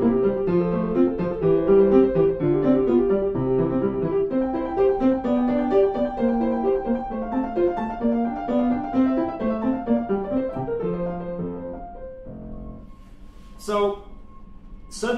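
Keyboard performance of a Couperin piece with the left hand dropped an octave, busy interleaved notes sounding clearly for about twelve seconds before fading into quiet rustling and a couple of brief knocks.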